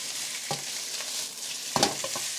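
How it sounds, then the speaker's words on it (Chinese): Deboned pork stir-frying in a wok in oil, a soft steady sizzle broken by a few scraping spatula strokes, close and fairly quiet. "拆骨肉炒出焦焦香香的感觉"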